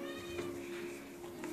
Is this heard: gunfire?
no